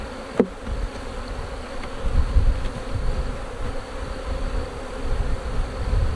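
Honey bees at an open hive during a colony split into nucs make a steady, close, continuous buzzing drone, with a brief sharp knock near the start.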